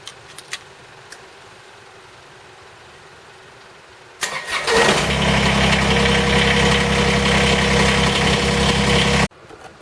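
A Kubota BX2380 compact tractor with a shutdown fault is cranked after a few quiet seconds of small clicks, catches and idles loudly and steadily close by, then stops suddenly.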